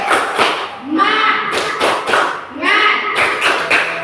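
A class in an Indonesian religious-education lesson does rhythmic group clapping, a loud, close series of sharp claps in a set pattern, mixed with chanted voices.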